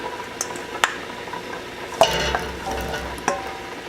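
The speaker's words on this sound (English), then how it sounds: "cook up these potatoes until they start to crystallize" Potatoes fry in a hot pan for caldo de queso, a soft steady sizzle broken by a few sharp clinks and scrapes of a utensil against the pan.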